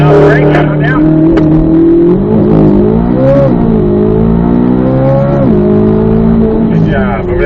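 A Chevrolet Corvette C8 Z06 engine roars loud and close during a launch-control start, its pitch rising and falling repeatedly over several seconds, while people talk over it.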